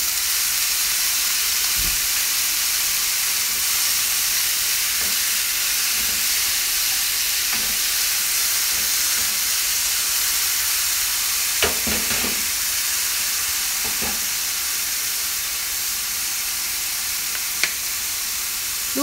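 Potatoes fry in a pan for an Indonesian dish of potatoes in sweet soy sauce, giving a continuous, even sizzling hiss. Occasional soft clinks and scrapes of stirring are heard, with no talk.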